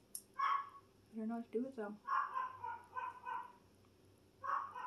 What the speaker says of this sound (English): She's always got to bark at least one more time.